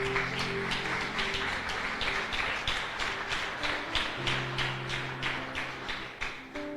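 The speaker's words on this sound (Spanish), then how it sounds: "Dale un fuerte aplauso al Señor." Church congregation clapping in unison, a loud rhythmic beat of sharp claps repeating steadily, with a low sustained musical tone underneath and no speech.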